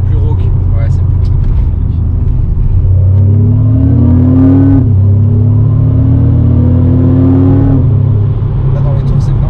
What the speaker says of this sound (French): Là, dans les tours, c'est vraiment présent hein, dans la track. Ouais. Le bruit de la V6.